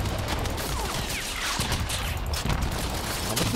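Prometheus V plasma emitters firing on full auto in the vehicle combat game Crossout, a dense, continuous crackling barrage of rapid energy shots over loud battle noise.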